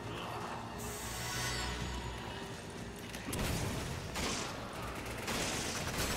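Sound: enemy gunfire in Resident Evil 5 video game

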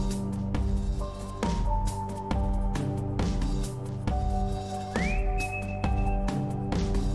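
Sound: whistling in the video game Lost in Vivo

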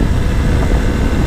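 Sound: Suzuki V-Strom 800 DE motorcycle engine

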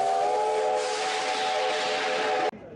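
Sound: Victory train whistling as it arrives at Sevastopol station

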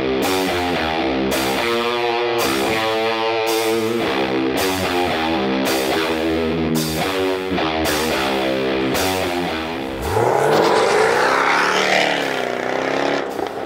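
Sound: fast car lapping a track with traction control off

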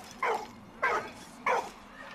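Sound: dog barking in the video game Valiant Hearts

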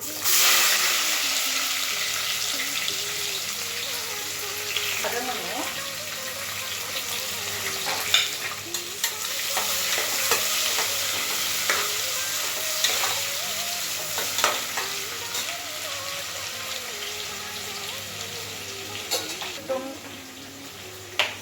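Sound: onions frying in a pan for mushroom biryani

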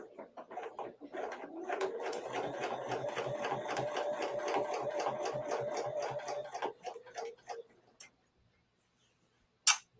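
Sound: sewing machine stitching fabric

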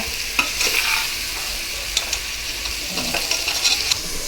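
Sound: gently stirring paneer in biryani masala

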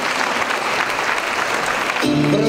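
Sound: wedding guests applauding the bride and groom

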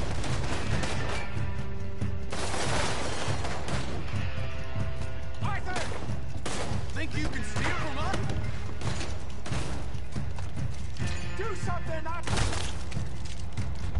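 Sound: gunfire in a video game shootout

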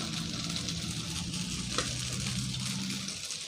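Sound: beaten egg poured into hot pan for fried rice

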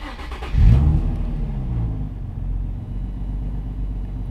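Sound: Nissan 350Z HR engine starting and revving

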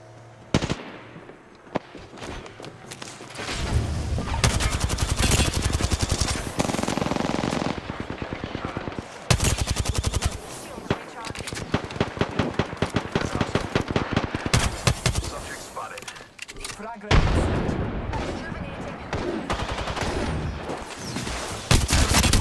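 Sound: gunfire in the video game Apex Legends

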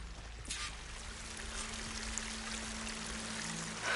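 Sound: waterfall rushing in video game Horizon Forbidden West

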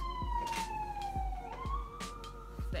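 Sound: ambulance siren passing by

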